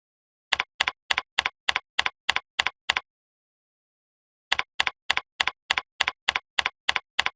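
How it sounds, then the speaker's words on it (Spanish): Computer keyboard keys are struck in two quick, even bursts of about nine sharp clicks each, separated by a pause of silence. "presiona la tecla Enter del teclado para ingresar la fórmula en Excel"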